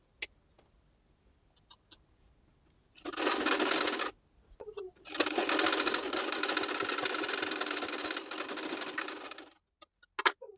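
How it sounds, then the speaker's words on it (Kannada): A sewing machine runs in two loud bursts, a short one and then a long steady run of several seconds, stitching the side seam of a plain blouse; small clicks come before and after, and no one speaks. "ಈ ರೀತಿ ಅಳತೆ ಬ್ಲೌಸಿಂದ ಅಳತೆ ತಗೊಂಡು ಸ್ಟಿಚ್ ಮಾಡ್ಕೊಳ್ತಾ ಇದ್ದೀನಿ"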